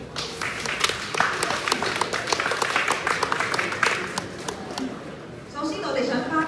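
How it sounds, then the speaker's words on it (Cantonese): Audience applause at a Hong Kong space application creative competition award ceremony, a dense, lively clatter of many hands lasting several seconds before fading into speech. "掌聲有請"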